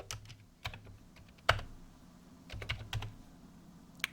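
Quiet clatter of keys on a computer keyboard, a few scattered keystrokes and short bursts of typing with brief pauses, close and faint with faint room hiss and no voices.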